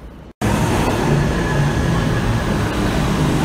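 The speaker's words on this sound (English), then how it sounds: "I just got off the train." A New York subway train roars loudly and steadily after a brief cutoff, a dense close rumble of wheels and cars filling the space.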